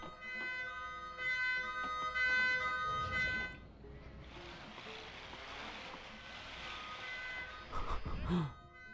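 An emergency vehicle siren wails through busy traffic in the SimCity video game, moderately loud at first, then fading under a broad wash of city noise.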